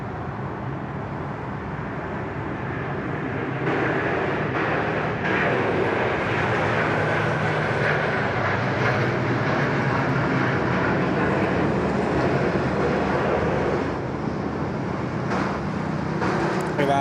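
A departing airliner roars from Sydney Airport, a broad sustained jet rumble that swells around four seconds in and holds steady and loud for the rest of the stretch, with no talk over it.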